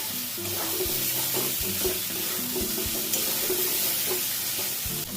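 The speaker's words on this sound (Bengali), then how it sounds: "চিকেনটা দিয়ে দিলাম। আলু আর চিকেন দিয়ে খুব ভালো করে কষবো।" Chunks of potato and chicken sizzle and crackle steadily in a hot pan while being stirred and sautéed, with occasional scraping knocks from a utensil close by throughout.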